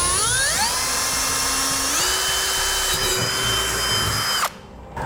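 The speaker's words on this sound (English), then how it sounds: "We're going to drill a 5/16 inch hole." A power drill whines loudly at high speed drilling a 5/16 inch hole, its pitch stepping up as it bites in, then cuts off abruptly near the end.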